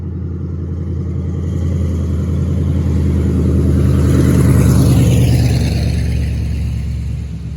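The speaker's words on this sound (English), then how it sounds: "Wait for this loud truck to get by." A heavy vehicle engine rumbles past, swelling louder toward the middle and fading, a steady low drone with no voices.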